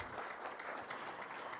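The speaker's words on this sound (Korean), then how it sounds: "네, 큰 박수 부탁드립니다." A crowd of citizens claps steadily at a public civic event in Incheon, a brief burst of even applause, moderately distant and uninterrupted.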